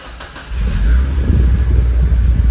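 A Mazda Miata fitted with an added muffler turns over and catches, then settles into a steady, low, fairly quiet idle rumble, close by and heard alone.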